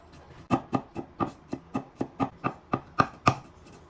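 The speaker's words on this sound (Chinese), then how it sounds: "再剁成蒜末。" A knife mincing sliced garlic cloves on a cutting board while making lemon shredded chicken, about a dozen crisp, close chops in a steady rhythm of roughly three per second, with no talking.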